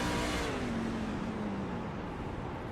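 A race truck engine in a Truck Series playoff race, heard on board revving with a falling pitch sweep as the driver works the clutch, loud and close with steady engine noise throughout.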